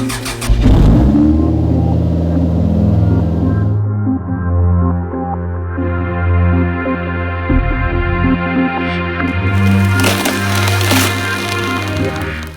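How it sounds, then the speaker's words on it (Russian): A turbocharged VAZ 2101 engine cranks and catches close up, then settles into a loud idle with a series of rising and falling revs and blips. "включаем зажигание"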